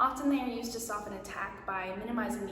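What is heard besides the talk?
None of the usual background noises is heard.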